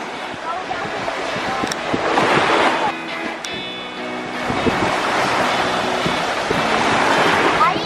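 Ocean surf washing in continuously at a beach on the Fourth of July, a broad steady roar with wind buffeting the microphone, while people talk nearby.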